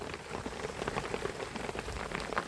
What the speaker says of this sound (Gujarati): કેટલો બધો વરસાદ પડે છે.